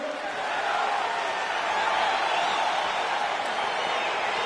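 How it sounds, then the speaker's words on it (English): Spectators in a UFC fight in a PS4 video game give a continuous, loud, dense roar and cheer that holds steady throughout as the bout gets underway. "crowd getting excited as this fight gets underway"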